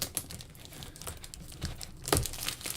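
Crinkly plastic packaging of a card base and envelope packet being torn open, with scattered rustling and a sharper crunch near the end, close and fairly quiet.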